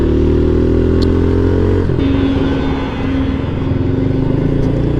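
A 2020 Honda CRF110 dirt bike engine runs loud and close throughout while being ridden, with steady revving, a shift in pitch partway through and clattering mechanical noise.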